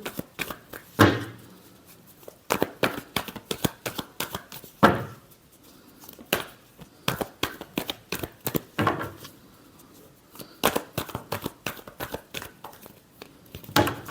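Tarot cards being shuffled by hand, with rapid riffling and slapping bursts in an irregular rhythm, close and crisp, continuing with only brief pauses and no speech.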